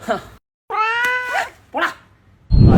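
A cat gives a loud, drawn-out meow up close, with people talking around it.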